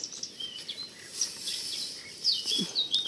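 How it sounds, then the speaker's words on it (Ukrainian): Birds chirp and tweet outdoors over a hayfield on a breezy day, several short high calls scattered over a soft background rustle. "так пташечка співає файно."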